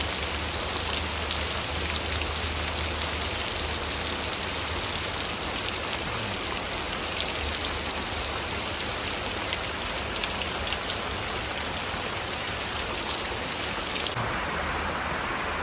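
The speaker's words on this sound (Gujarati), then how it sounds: "બહુ વરસાદ આવે છે" Heavy unseasonal rain pours steadily on a village in Botad, Gujarat, a dense continuous hiss of drops pounding surfaces, close and loud throughout with no voices.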